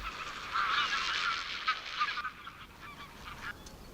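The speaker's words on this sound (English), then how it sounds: "There are two species of flamingo here, the greater flamingo and the lesser flamingo." A flock of greater and lesser flamingos at a desert lake in the Rann gives loud, nasal, goose-like honking calls that overlap densely at first, then thin into scattered, fainter calls.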